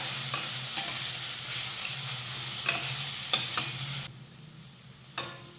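Chopped onion sautés in a pan over low to medium heat, a steady soft sizzle broken by spatula scrapes and taps; the frying quietens after about four seconds, with one more stir near the end.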